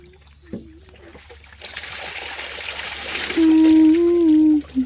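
Natural water flows and trickles at a farm bathing spot, a soft stream rising after a quiet start, with a voice calling out over it near the end.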